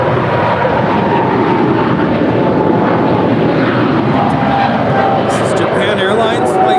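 A 15-year-old Boeing 777-300ER departs LAX for Tokyo Narita, its broad steady engine roar loud and constant throughout, with people talking underneath.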